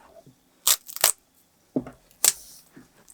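Bones are cut away from a pork loin during butchery, producing four or five sharp, close crunching bursts separated by short quiet gaps.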